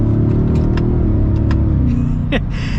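A 2023 Ford Raptor R pickup engine revs and pulls steadily under acceleration in four-wheel auto, a loud continuous rumble up close with a brief squeak near the end.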